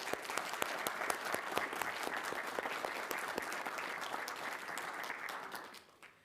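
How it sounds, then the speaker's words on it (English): Meeting audience applauding a championship high school soccer team, dense sustained clapping from a crowd in a hall that fades out at the end. "Let's clap for that first."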